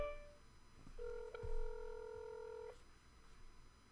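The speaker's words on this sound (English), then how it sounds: "Just rings and rings and rings." A telephone rings unanswered on the line, heard as one steady electronic ring tone lasting under two seconds, faint against a quiet background.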